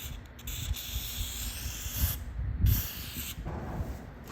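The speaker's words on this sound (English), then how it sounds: "I'm gonna spray it around here" White lithium grease sprays from an aerosol can onto the final drive splines of a Kawasaki motorcycle, giving a few soft hissing bursts with short gaps in a quiet workshop.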